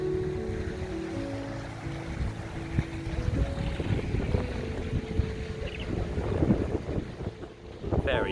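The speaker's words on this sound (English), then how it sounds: "Very, very windy day." Strong wind buffets the microphone at the seaside, a steady roaring gusting that surges and dips throughout, with low boat or water sounds underneath and no clear speech.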